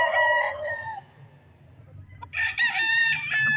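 Gamecock broodcocks at a game farm crow twice, each a loud, harmonic call, the first fading out, then a pause of quiet yard noise before the second begins.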